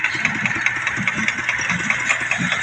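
Engine of a Thai two-wheel tractor cart, a rot kratae hauling straw bales, idling loud and close with a steady rough chugging pulse and no voices over it.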